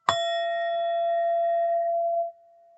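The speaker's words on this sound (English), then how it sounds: "choose the pile that is calling to you as I hit my singing bell on the count of 3" A metal singing bell is struck once, giving a sharp attack followed by a pure, ringing tone that sustains evenly for about two seconds before stopping suddenly, heard alone and close.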